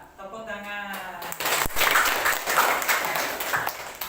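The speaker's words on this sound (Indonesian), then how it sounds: "Iya, tepuk tangan." Classroom applause from a group of students after a presentation during a teaching practice session, a broad burst of clapping that starts after a voice and continues steadily, fairly close.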